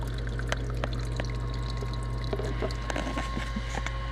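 Water poured in a steady even stream over a grain bill spread in a roaster pan during home brewing of a Belma IPA, a continuous close trickling wash with a low steady hum beneath and a few small clicks.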